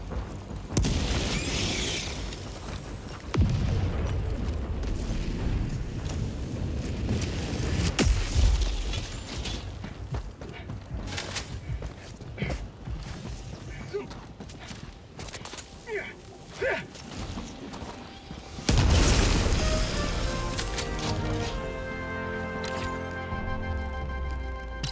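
Explosions in Helldivers 2 boom through the clip, with a big blast near the start, heavy rumbling bursts in the middle and another loud detonation toward the end, amid battle noise and occasional voices.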